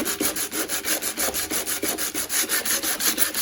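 Steady back-and-forth sanding scrapes across a van floor, a rhythmic rubbing stroke repeating about every fifth of a second, close and continuous with no voices.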